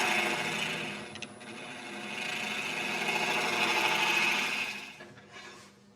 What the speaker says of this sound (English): Just use my round nose carbide just to dust the bottom off.